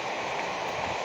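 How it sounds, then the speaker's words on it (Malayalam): Rain falling as a steady, even hiss with a soft wash of drops, continuous and unbroken over a brief moment, with no voices. "മഴയുണ്ട് കേട്ടോ."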